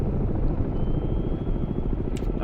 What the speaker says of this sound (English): I think they're sending helicopters over to investigate our existence